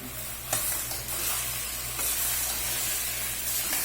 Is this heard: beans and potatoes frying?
yes